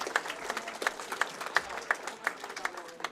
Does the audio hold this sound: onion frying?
no